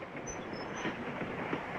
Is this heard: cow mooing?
no